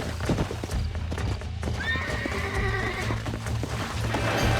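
A horse in the Red Dead Redemption video game, with steady rhythmic hoofbeats clip-clopping throughout and a clear whinnying neigh rising midway, close and prominent over game ambience.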